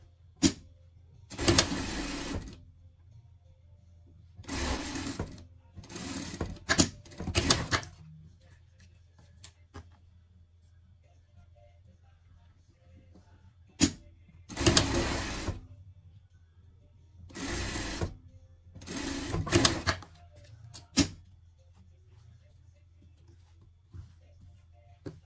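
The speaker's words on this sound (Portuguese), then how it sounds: "vamos passar a costura aqui" A sewing machine stitching a seam on a pet outfit, heard in short separated bursts of rapid mechanical whirring that start and stop, with quiet gaps between runs.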